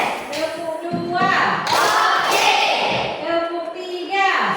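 A class of children claps a rhythmic pattern in a classroom, soft thuds and claps mixed under voices and chanting that fill most of the clip.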